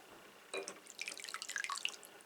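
A riding mower carburetor part is rinsed under water, giving a quiet, brief patter of drips and trickling splashes that starts after a short pause and continues to the end.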